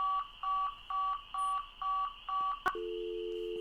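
In the Nancy Drew game Ghost Dogs of Moon Lake, a telephone is dialed as six evenly spaced touch-tone beeps, followed by a sharp click and then a steady ringing tone, all clear and close with no voices.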